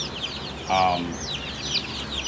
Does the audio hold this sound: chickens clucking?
yes